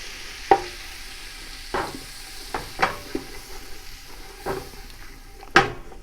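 Butter and flour roux being stirred in a giant pot, with soft scraping strokes at irregular intervals over a low, steady sizzle, close by.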